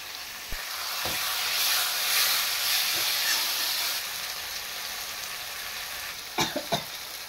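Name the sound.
fish frying in hot oil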